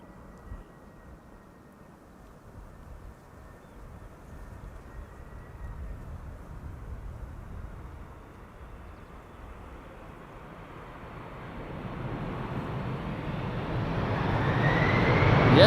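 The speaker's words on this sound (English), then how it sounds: "The A380 just now landed with idle reverse." An Airbus A380 lands at Amsterdam Schiphol with idle reverse, a distant broad jet roar that rises steadily over several seconds toward a louder rumble at the end, with no voices.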